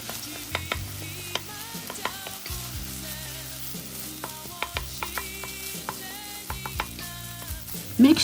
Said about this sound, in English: I'm adding some rice wine, and this will take the fried rice to the next level